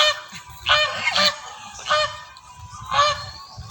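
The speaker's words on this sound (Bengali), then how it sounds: "এই যেগুলো হচ্ছে রাজহাঁস বলে আমাদের এখানে।" Domestic geese honking near a grassy spot, several loud nasal calls in irregular bursts with short pauses between, close by and without talk.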